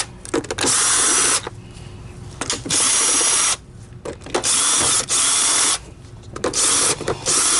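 A power drill runs in repeated bursts of two to three seconds each as 10 Torx screws come out of the nozzle of a Patriot Hybrid Clean Air System vacuum, with ratcheting whir and short pauses between them.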